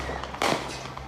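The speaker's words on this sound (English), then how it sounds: "There are 3 more shots from someone else in the parking lot." A single sharp, loud bang cracks out from a gunshot fired in a parking lot during a street confrontation, standing out briefly over low background noise.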